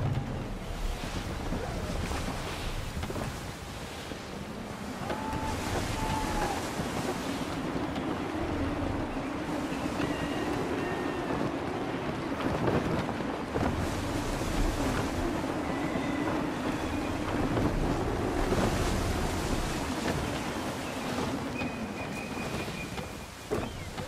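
Gusty wind and sea waves in the Assassin's Creed III video game, a continuous rushing roar of wind over water and surf with creaking sounds from a ship at sea.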